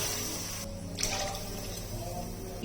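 Water poured from a cup into a cooking pot of rice for matar pulao, a steady close splashing pour in a home kitchen, rising briefly in the middle.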